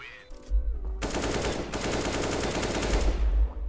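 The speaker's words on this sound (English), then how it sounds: "He's actually shooting at a dead body." Rapid automatic gunfire in CS:GO rattles loud and close in a dense, sustained burst lasting a few seconds, with heavy low thumps under the rapid cracks.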